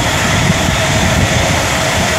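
A train roars steadily through Rugby station on the West Coast Main Line, a loud, close and continuous rumble with no break over the short stretch, and no voices.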